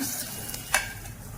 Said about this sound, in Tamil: இது தாளித்து இதில் வந்து கொட்டிடலாம்